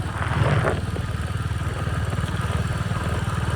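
Royal Enfield Hunter 350 motorcycle engine on a night ride, a steady low thumping single-cylinder pulse with rhythmic clatter running close and moderately loud throughout, no talk.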